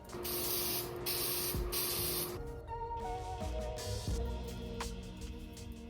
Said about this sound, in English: We can go ahead and put Toyota Bond on the motor, spray the gasket, and assemble everything.